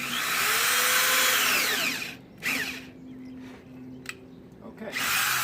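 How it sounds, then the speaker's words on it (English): A power drill bores halfway into wood with a fresh bit, whining steadily for about two seconds, then stopping and briefly restarting, close and moderately loud with some handling noise between bursts. "Okay, I drill halfway."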